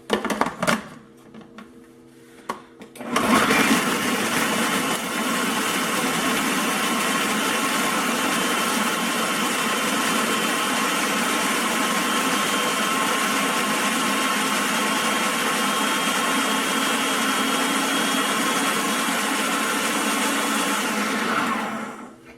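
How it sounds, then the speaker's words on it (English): A food processor purees arbol chili peppers and garlic cloves for fermented hot sauce, starting after a few seconds of quiet handling and then whirring loudly and steadily for about twenty seconds before stopping. "we're just going to get these in your food processor, your blender"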